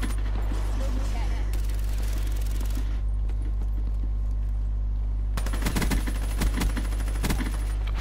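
Rapid bursts of gunfire from the Weevil gun with an extended magazine in a shooter video game, loud and close over heavy game noise, with speech mixed in.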